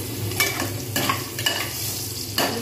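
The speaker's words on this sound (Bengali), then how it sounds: "এগুলো প্রেশারে ভেজে নিচ্ছি" Spices, including ginger and garlic paste, frying in oil inside a pressure cooker give a steady sizzle broken by four sharp scraping stirs spaced through the clip, close up and with no voices.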